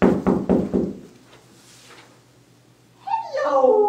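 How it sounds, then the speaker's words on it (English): A quick run of about four firm knocks on a door sounds close and loud. After a short quiet pause, a voice begins speaking. "when there was another knock at the door"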